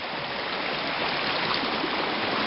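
Water rushes steadily in a river where it washes down into a creek, a constant dense flowing hiss with no breaks, close and fairly loud, no voices.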